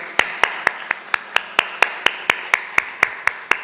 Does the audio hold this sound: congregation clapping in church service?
yes